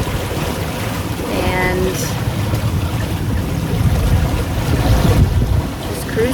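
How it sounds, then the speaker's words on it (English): A sailboat cruising in the Sea of Cortez with the mainsail up and the motor running makes a steady low rumble with rushing water and wind buffeting the microphone, and a voice speaks briefly over it. "We do have the motor on, but we have the main up."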